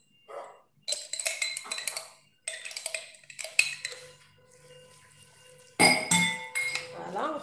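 Ingredients are stirred with mayonnaise in a bowl, with clinking of a utensil against the dish in several bursts separated by short pauses, close and fairly loud.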